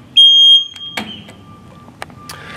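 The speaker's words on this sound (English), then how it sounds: "this is the sound that the machine makes when it's in operation" Revolution robot pallet wrapper running its operating alarm: a loud, high steady electronic beep at the start, followed by faint machine hum and a few clicks.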